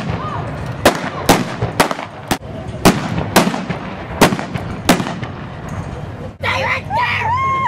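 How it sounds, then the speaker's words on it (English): Blank-fired revolvers and rifles from a reenacted Wild West gunfight staged downtown in Estes Park by Single Action Shooting Society members: about ten sharp, loud shots spaced irregularly, over crowd noise, followed by a brief burst of chatter and whistling. "Members of the Single Action Shooting Society will reenact a Wild West gunfight right downtown."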